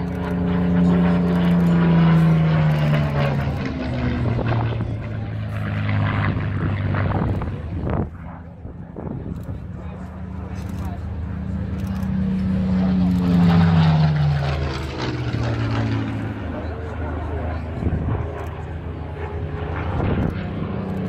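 A WWII propeller aircraft built in 1943 at Castle Bromwich flies at the Old Buckenham Airshow in 2017, its loud engine drone sustained throughout and rising and falling in pitch as it passes, with a commentator talking over it.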